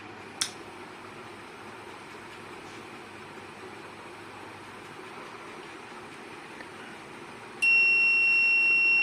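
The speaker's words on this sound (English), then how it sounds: "Buzzer is beeping, and the LCD display the alert message" A buzzer on an LPG gas detection robot starts beeping near the end, a steady high electronic tone sounding loudly over a quiet room after a brief click.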